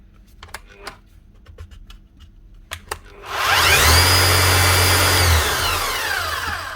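A Bosch rotary hammer drill, just repaired, starts after a few scattered clicks and handling knocks, then spins up to a loud, steady whine and runs continuously, close by and with no voices.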